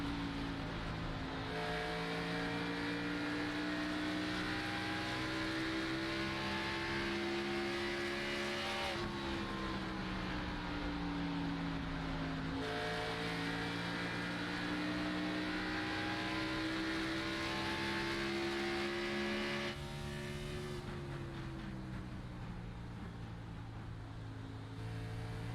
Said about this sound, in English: let's ride along with Mr. Glenn here in this 30 car.